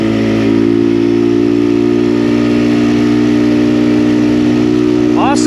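An XPro Templar 250 dirt bike engine drones loud and steady at highway speed, a constant buzzing tone with heavy wind rush, and a brief rising whine near the end.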